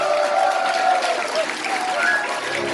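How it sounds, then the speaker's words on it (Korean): Audience applause at a Rotary International District 3600 event in Yeoju, a full, even wash of clapping that holds steady at a loud level throughout, with faint crowd murmur beneath it. "큰 박수 한번 부탁드립니다."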